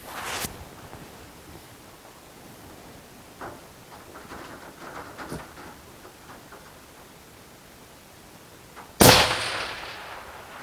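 A single loud rifle shot cracks at an outdoor shooting range near the end, after a long stretch of quiet background noise with a few faint knocks and no talking.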